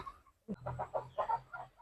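Chickens cluck at a poultry farm near Nellore where chicks and eggs are sold, with a short run of close, repeated clucks in an uneven rhythm.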